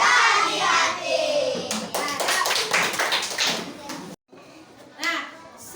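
A class of children in an Indonesian schoolroom claps out a rhythmic math chant, a run of sharp, close hand claps in a steady pattern, mixed with young voices and a brief pause near the end.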